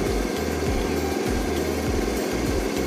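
A TVS Jupiter scooter engine idling close by after carburettor tuning, a steady buzzing rumble with a regular chugging pulse and no voices.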